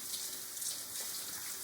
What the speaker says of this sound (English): Go ahead, turn the water on,